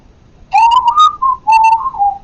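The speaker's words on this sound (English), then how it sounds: "I can whistle." A person whistles a short melodic tune alone, a few bright sustained and wavering notes in two phrases, close and clear.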